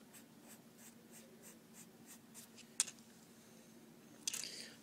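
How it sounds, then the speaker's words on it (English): Ebony pencil shading on paper for an impossible triangle drawing: a steady series of soft, rhythmic scratchy strokes, close and quiet, with a sharper tap near the middle and a brief louder rustle at the end. "you can use a ebony pencil to do that shading"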